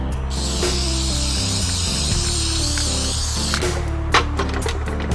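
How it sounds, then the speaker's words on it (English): An aerosol can sprays flat finish onto a homemade wooden guitar pedal board, a steady close hiss lasting several seconds before breaking off, followed by a few light clicks and handling knocks. "And I'm just going to spray a little bit of flat on there."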